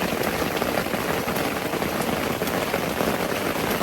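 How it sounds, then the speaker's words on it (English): Dense, steady pattering of hail or heavy rain drumming on a tent surface, continuous and close, with no talking. "It's hailing. And it's wild."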